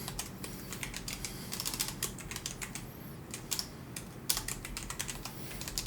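Steady typing on a computer keyboard, close and clear, with irregular clusters of crisp key clicks and short pauses, no voices over it.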